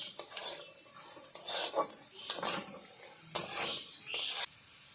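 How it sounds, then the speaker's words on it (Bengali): Potato and carrot pieces frying in a pan, with scraping stir strokes and clinks of a utensil against the pan over a low, steady sizzle, nearby, with no voices. "আলুর সঙ্গে গাজরটাকে 2-4 মিনিট সময় নিয়ে আবার ভেজে নেব।"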